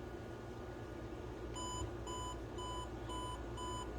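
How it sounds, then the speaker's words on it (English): A camera's ten-second self-timer beeps in a steady run of short, evenly spaced electronic tones over a faint room hum, starting after a moment of quiet. "Go here to 10-second self timer"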